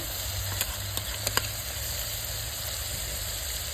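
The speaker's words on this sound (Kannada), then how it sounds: "ಈಗ ನಾನು ಇದಕ್ಕೆ ಟೊಮೊಟೊ ಹಾಕ್ತಾ ಇದ್ದೀನಿ" Tomatoes go into hot oil in a pan while cooking millet aloo pulao with potatoes, a steady close sizzle and frying hiss running throughout, with a few faint clicks of stirring.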